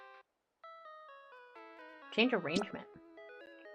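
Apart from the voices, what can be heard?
Theme music from Pokemon Pokopia video game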